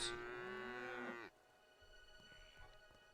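A cow in the video game Craftopia lets out a single loud, drawn-out moo lasting just over a second, then quieter game ambience with faint clicks follows.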